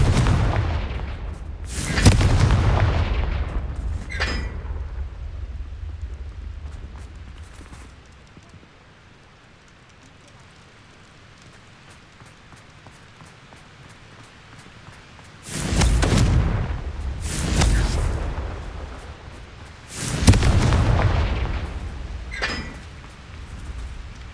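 Spell explosions from the Confringo fire spell in Hogwarts Legacy go off as loud booming blasts, a pair near the start and a cluster of three from about 15 to 22 seconds, separated by a quiet lull.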